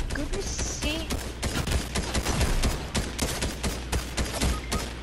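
Gunfire rattles through a video game fight as a dense, continuous fusillade of sharp overlapping shots, steady and fairly close throughout.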